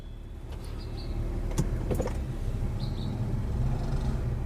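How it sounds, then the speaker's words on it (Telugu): A 2017 Honda City V CVT petrol engine idling steadily after a push-button start, a low continuous hum heard from close by, with a few faint clicks and an electric whir on top, and no talking. "పుష్ స్టార్ట్, సింగిల్ సెల్ఫ్లో స్టార్ట్ అయింది సార్"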